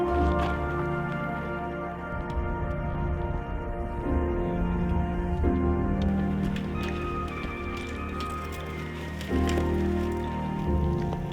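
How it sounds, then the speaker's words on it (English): Hail falls in the Grand Canyon, a dense, steady patter of small impacts with sharp clicks scattered through it, close and continuous, with no talk over it. "It's literally hailing right now."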